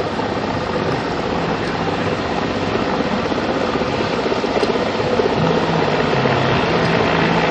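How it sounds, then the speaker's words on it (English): A military helicopter hovering close by at a Pakistan Air Force air show in Islamabad, its rotor and engine roaring steadily and loudly without letup, no speech. "यहाँ पर हेलीकॉप्टर को होवर करवाना, एक जगह पर हवा में मुअल्लक रखना"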